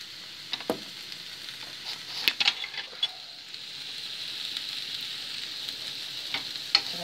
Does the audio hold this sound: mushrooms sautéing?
yes